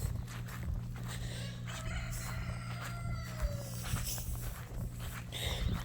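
Chickens on a southern farm, with a rooster crowing and hens clucking nearby, mixed with footsteps shuffling over the ground and a low steady background hum.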